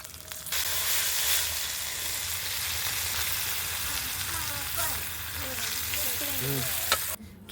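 Garlic and onion sizzle loudly in hot oil while tempering lentil dal, a dense, continuous frying hiss with stirring scrapes and a brief sharp clink near the end.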